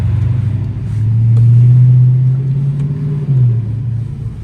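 An SRT Hellcat accelerates with a deep, swelling low rumble heard from close by, building over a couple of seconds and then easing, with no talk.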